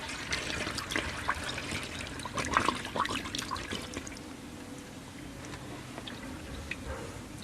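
Water drains from a container onto a single plant in a wooded garden, making a light, uneven trickle with scattered drips that is busier early on, then thins to a quieter dribble.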